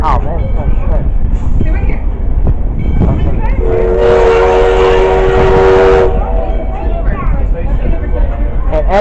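A steam train passes close by, its whistle blowing as a loud steady tone for about two seconds mid-pass, with people talking over the rumble.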